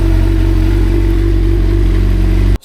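A motorcycle engine idles steadily close by, then pulls away in first gear, the low engine drone cutting off abruptly near the end.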